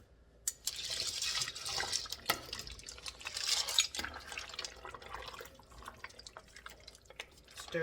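Broth from a whole box poured into a pot of homemade beef stew, a splashing, gurgling liquid stream with light clinks, strongest at first and trailing off into quieter drips.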